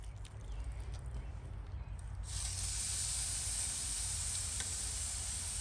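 Ribeye steaks hit a hot Big Green Egg grill and a loud, steady hissing sizzle kicks in partway through, rising sharply over a low background rumble and holding evenly to the end.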